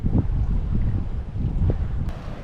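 Steady wind buffeting the microphone aboard a sailboat under sail off the island of Elba, Italy, a continuous low rumble with faint water and hull noise, no talking.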